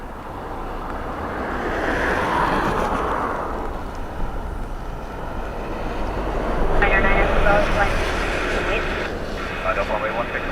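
Airliner landing on Dublin Airport's runway 16 in a gusty crosswind, heard from a van roof: a broad, loud jet roar swells, fades slightly, then builds again with a hissing rush and steady wind noise throughout.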